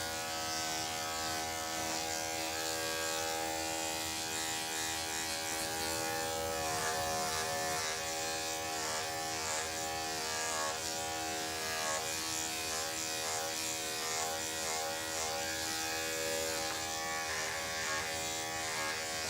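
An electric hair clipper buzzes steadily and close as its blade cuts a doodle's coat, a continuous even hum with no voices.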